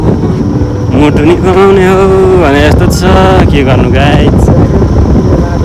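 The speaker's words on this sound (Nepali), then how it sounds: "मेरै कानमा चाहिँ हावा हानिरहेको छ" Wind buffets the microphone while travelling on a cold, lonely road beyond Jorpokhari, giving a steady, loud low rumble that runs throughout beneath someone talking.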